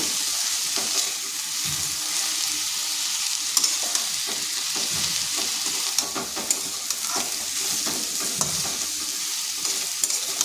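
Drumstick leaves and lentil dumplings stirred and frying in a pan, a steady bright sizzle with a continuous soft hiss and scattered scraping clicks of the spoon throughout.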